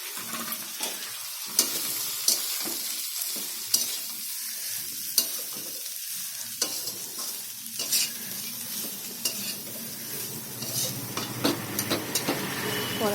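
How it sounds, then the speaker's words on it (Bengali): Carrots and boiled green chillies sizzle steadily in a hot wok, with frequent sharp scraping and clanking of a spatula stirring them, loud and close with no talk. "এগুলো সকালে সিদ্ধ লঙ্কাগুলোও ছিল, দিয়ে দিলাম। গাজরটা ঢেলে দিলাম।"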